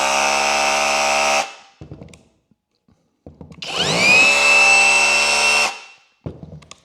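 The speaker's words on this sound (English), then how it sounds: "And then we go to rotary hammer mode" A Flex SDS rotary hammer drills in hammer mode in two loud bursts, the motor whining up to speed and pounding with a rattling buzz, separated by a short silence and trailing off with small clicks.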